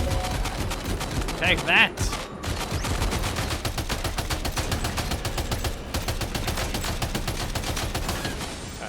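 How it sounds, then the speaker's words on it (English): Sustained machine gun bursts from Death Stranding 2 hammer away almost without pause, loud and rapid, aimed at a large enemy, with a brief break near the start and a man's short exclamation over the firing. "Let's get in there with our machine gun. Alright, we'll unload on him."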